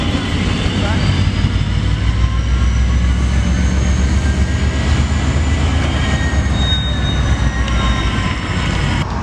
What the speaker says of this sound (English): Very impressive to see two BNSF yard movers working the same yard at the same time